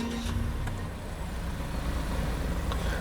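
A Mazda 2 R engine idles with a quiet, even low rumble heard close up, steady throughout with no voices.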